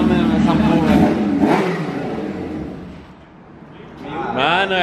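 Car engine revving hard, a rough mid-pitched roar that swells, dips and climbs again, heard close and loud with voices talking over parts of it.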